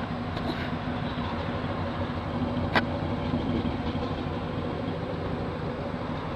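A 1975 Cadillac Eldorado's engine idles quietly and steadily with a smooth, low, even hum and no loud exhaust, holding one level throughout with a brief click midway.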